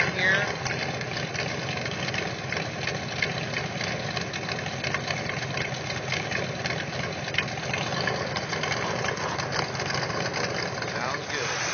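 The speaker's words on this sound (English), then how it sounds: "Back of the car exhaust action going on here." A Ford 390 V8 idles steadily with a continuous low exhaust rumble from the back of the car and a busy mechanical chatter, and someone talks faintly over it.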